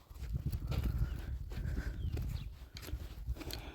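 Donkeys laden with big water cans walk along a pilgrimage path, their hooves clip-clopping in an uneven, fairly close rhythm over a continuous low outdoor rumble.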